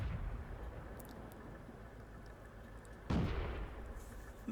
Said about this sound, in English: You can see how slow this gun fires, the shell velocity